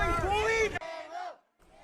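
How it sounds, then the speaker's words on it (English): A crowd at a vigil chants the name Diego, loud and close, in two rhythmic calls with the voices blending into a single shout before trailing off. "A crowd chanted Diego and followed him through the parking lot."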